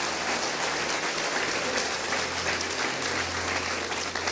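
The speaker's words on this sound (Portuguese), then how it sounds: "Você pode aplaudir a Jesus?" A church congregation applauding Jesus, a dense, even roar of many clapping hands sustained throughout, full and close like heavy rain, with no speech over it.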